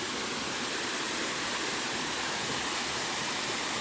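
A steady, loud rush of spring water pours continuously from a free hillside water source fed through hoses, a dense, even hiss with no pauses and no voices.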